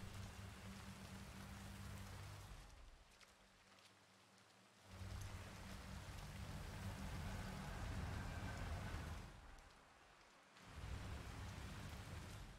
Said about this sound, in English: Going out in the rain again.